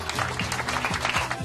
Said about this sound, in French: Il faudrait quand même qu'on fasse un tonnerre d'applaudissements aux pizzaiolos qui nous ont régalé ce soir